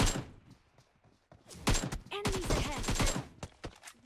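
Rapid bursts of gunfire from the battle royale game PUBG Mobile, loud and close, crackling in dense clusters after a quieter opening.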